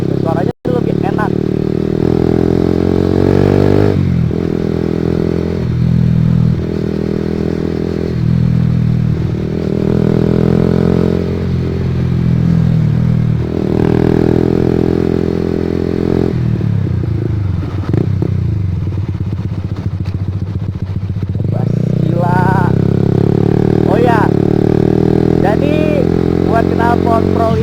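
A Honda CB150R motorcycle with a Pro Liner TR-1 carbon long exhaust idles and revs repeatedly, its deep burbling note swelling and falling in several close, loud blips, with someone speaking over parts of it.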